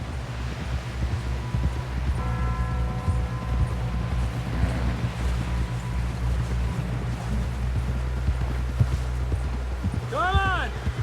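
A horse in Red Dead Redemption II trots along with steady clip-clop hoofbeats under continuous ambient game sound and music, with a few brief tonal cues toward the end.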